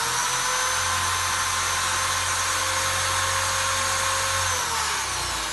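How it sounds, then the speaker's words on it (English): Power drill fitted with a brad point bit boring slowly through a kitchen cabinet door for a pull, a steady loud whir with a low motor hum that holds throughout, then eases off near the end. "Don't force the drill bit through the door"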